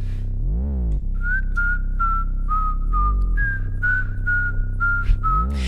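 A melodic whistled tune of many short notes in a song runs over a steady musical backing, fairly clear and prominent throughout.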